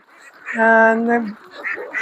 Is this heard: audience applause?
no